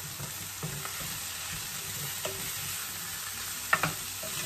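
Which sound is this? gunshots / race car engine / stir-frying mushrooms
stir-frying mushrooms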